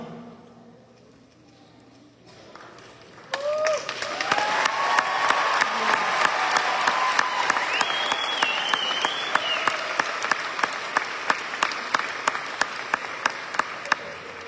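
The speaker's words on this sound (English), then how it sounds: "That is certainly worth a big round of applause" Applause and cheering break out from the audience at an El Dorado Promise academic signing day after a countdown, with loud steady clapping, whoops and whistles, and occasional sharp camera clicks throughout.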